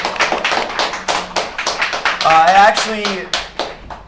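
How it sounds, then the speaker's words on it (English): A small group gives a morning round of applause for a guest from Team Phoenix, with scattered, close hand claps and a voice calling out partway through. "Let's have a round of applause for Mrs. Rupp this morning."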